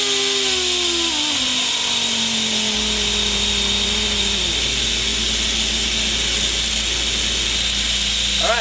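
Milwaukee M12 FUEL die grinders, 4-speed up to 25,000 RPM, whine at high pitch, then the tone sags and drops as load pushes them toward bogging down. The sound is loud, continuous and close.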